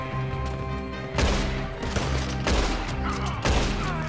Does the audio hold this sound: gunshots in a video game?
yes